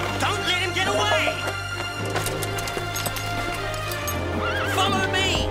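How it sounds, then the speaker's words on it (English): A brumby horse, the Silver Colt, neighs loudly and whinnies repeatedly as hooves clip-clop, with a busy close mix of horse calls and excited movement throughout. "That's my horse!"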